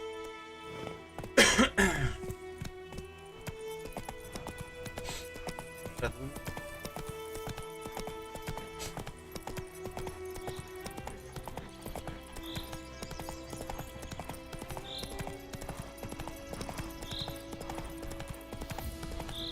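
Roach, the horse in The Witcher 3: Wild Hunt on PS5, clip-clops with steady, even hoofbeats throughout, with game music, an occasional cough and other game sounds in the background.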